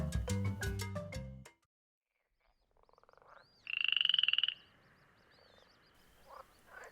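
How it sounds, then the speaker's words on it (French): Green frogs croak in a lush marsh: a loud, steady chorus of rasping croaks swells for about a second amid softer scattered calls, preceded by a brief burst of musical tones. "Une colonie de grenouilles vertes avait élu domicile dans un marais verdoyant."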